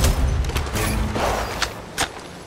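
Gunfire in the Apex Legends Mobile battle royale shooter, with a dense run of close shots and bursts, a couple of sharper cracks near the end, and mechanical clatter underneath.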